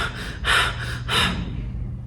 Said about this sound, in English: You breathe heavily.